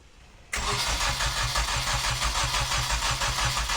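A Nissan Micra with a swapped SR20DE engine cranks and fires abruptly, then settles into a loud, steady, throbbing idle close by, with no talk.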